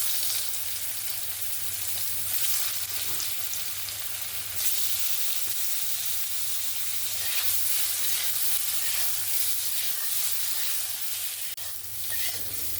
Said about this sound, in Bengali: আলুগুলোকেও ভেজে নেব।